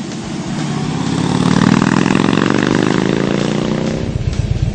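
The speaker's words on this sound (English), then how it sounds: "I knew with this big new motor it was going to have some get up and go." 2012 Harley-Davidson Dyna Switchback V-twin motorcycle under way, a loud, steady engine drone whose pitch slowly climbs as it accelerates, heard alone without talk.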